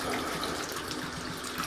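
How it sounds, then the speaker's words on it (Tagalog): Water poured into a tile adhesive mix: a steady, close hiss and splash of flowing liquid that continues without a break through the short moment. "tapos lagyan rin po ng konting tubig"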